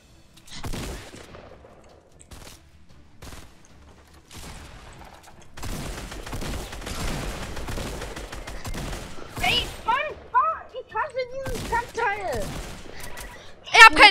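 Video game gunfire crackles in bursts and rapid volleys, with several voices talking over and between the shots, during a shootout in which a player runs out of ammunition.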